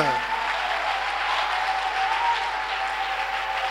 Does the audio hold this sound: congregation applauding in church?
yes